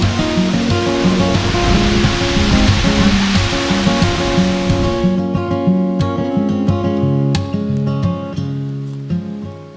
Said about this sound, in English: the trail reaches Fairy Falls, which is a 200-foot waterfall cascading down a sheer rock face